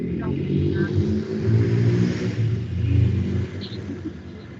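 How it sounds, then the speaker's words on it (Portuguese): A loud car passes close by, its low engine rumble and revving swelling and fading over several seconds, with a faint voice now and then underneath. "toda vez que passa um carro que faz mais barulho"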